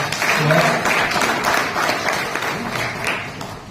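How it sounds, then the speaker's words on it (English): A Lions Club regional meeting audience claps steadily for a few seconds at a moderate, slightly distant level, with the sound thinning toward the end. "Please give her a round of applause."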